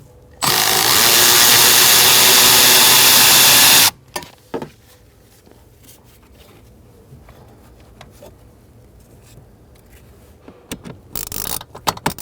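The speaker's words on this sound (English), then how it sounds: "gonna unscrew these 3 bolts" A power drill unscrews bolts from the HVAC blower motor of a 2000–2007 Ford Taurus: one loud, steady whir lasting about three seconds, close by, followed by quieter clicks and metallic handling sounds.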